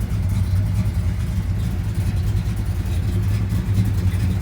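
A 1970 Dodge Super Bee muscle car engine idles with a deep, throbbing low rumble, steady and close, with no voices.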